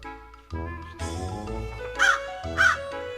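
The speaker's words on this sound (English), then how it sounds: "The crow sadly cawed as he hung upside down." A crow caws twice, loud and close, over a bed of soft background music in a storybook setting.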